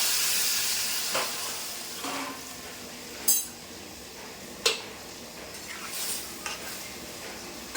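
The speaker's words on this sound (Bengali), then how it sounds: "ঝিঙেটা দিয়ে এই যে গরম জল ফুটছে, এই জল দিয়ে দেবো।" Boiling water poured into a pan of ridge gourd and fish curry sets off a strong hiss that fades. A few sharp clinks of utensils and a soft sizzle follow.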